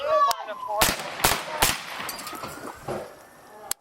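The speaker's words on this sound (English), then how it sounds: "Shots fired." Police gunfire during an officer-involved shooting, several sharp loud shots in quick succession, close and echoing, with a voice over a radio or scene noise in the background.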